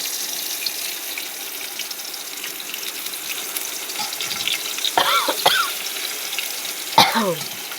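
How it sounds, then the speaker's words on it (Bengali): Pumpkin slices fry in hot oil in a home kitchen, giving a soft, steady sizzle with a few sharp clinks and clatters near the end; nobody speaks. "এই কুমড়ো ভাজা বসিয়ে দিলাম, তেলটা গরম হয়ে গেছে।"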